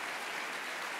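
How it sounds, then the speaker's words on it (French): An audience applauds at a history prize ceremony, a brief, faint, even patter of clapping with no voices over it. "on va vous applaudir copieusement."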